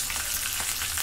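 Green chillies frying in oil with browned garlic, a brief, steady sizzle and crackle of hot oil, close and moderately loud with no voices.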